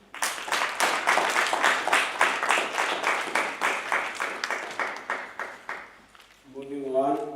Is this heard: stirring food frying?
no